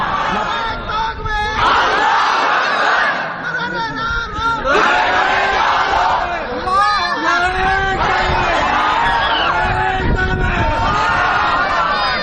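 A crowd at a religious gathering shouts takbir in repeated loud, ragged bursts, many voices rising and falling together in rhythmic waves with chatter between calls.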